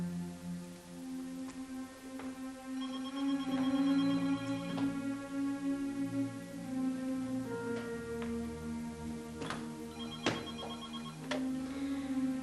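A telephone rings repeatedly in a quiet room, its bell tones clear and steady over a soft musical background, with no voices during the ringing.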